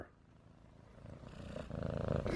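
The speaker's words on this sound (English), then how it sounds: "Oh, so listen to that purr." A young kitten purrs close to the microphone, a soft steady rumbling that grows louder and fuller toward the end, with no talking over it.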